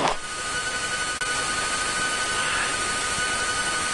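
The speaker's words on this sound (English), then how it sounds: "airplane seems to be warming up nicely here" A Piper Cherokee light airplane's engine warms up with a steady, loud, continuous drone and a faint high whine, with no talk.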